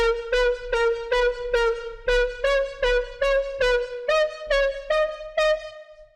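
Bright synth pluck notes in a repeating house-style pattern modeled on a track, each note sharply attacked and quickly decaying, with a steady rhythmic pulse throughout and no other sounds.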